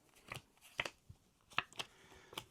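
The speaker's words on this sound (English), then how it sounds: "give a card a shuffle" Playing cards are shuffled in a series of short, crisp riffles and snaps, close and fairly quiet, with pauses between them.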